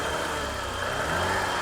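A 1990 BMW 535i E34 with a 3.5-liter inline six and low mileage idles steadily, a smooth continuous engine hum with broad hiss and no speech.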